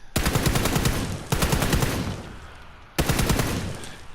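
Automatic rifle fire while hip firing in PUBG on PS4, heard as three loud sustained bursts of rapid shots with a brief pause between them.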